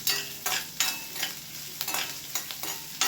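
Onion pieces fry in a pan for a tiffin-centre onion puri curry, with a gentle sizzle broken by repeated sharp scraping stirs at an uneven rhythm, close and moderately loud, no voices.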